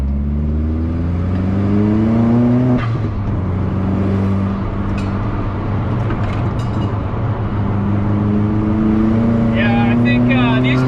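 An MK2 Golf with a 1.8T engine accelerating on the road, loud close engine drone rising in pitch through the revs, dipping at a gear change and climbing again, with brief talk over it.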